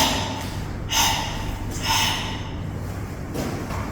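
Forceful karate breathing during Goju training: three sharp, close exhalations, each about a second apart, with a hissing, snorting rush of air and no talk.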